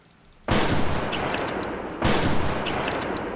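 A weapon in the hunting video game Prehistoric Hunt fires two loud, rapid continuous bursts of gunfire, one after another, each sustained and dense, with no talking over them.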